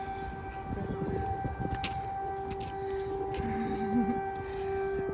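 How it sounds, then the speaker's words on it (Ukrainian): A steady air raid siren tone holds in the distance in Kharkiv, a long unwavering wail under faint background noise and scattered knocks. "Сирена так і не перестає виє, виє постійно"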